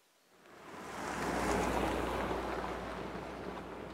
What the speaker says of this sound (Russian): Неподалеку журчит ручей